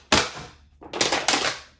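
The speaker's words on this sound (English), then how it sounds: "you want to squeeze the bottle tight together like this, and then cut it to make a little hole" Scissors snipping into a squeezed plastic bottle to make a hole, a few sharp crunching cuts close up, loud and abrupt, with no talk.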